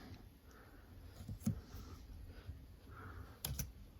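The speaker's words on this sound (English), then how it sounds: "I'm just going to type color here" Typing on a computer keyboard, a few faint close key taps over a quiet room hum, no talk.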